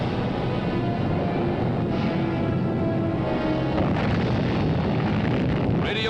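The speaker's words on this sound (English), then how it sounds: "Radioactive debris flies skyward from another underground explosion" Underground atomic bomb test blast throwing radioactive debris skyward, heard as a loud, continuous roaring rumble with broad turbulent noise that holds steady throughout, with no voices.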